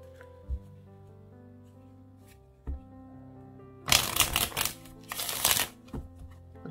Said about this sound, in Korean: 힌트 카드를 3장 뽑아보도록 할게요.